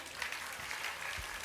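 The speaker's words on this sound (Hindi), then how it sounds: "तो एक बार जोरदार तालियां बजा दें हमारे प्रतिभागियों के लिए।" An audience at a school annual cultural program claps for the participants, a brief continuous burst of many hands with a couple of low thumps underneath.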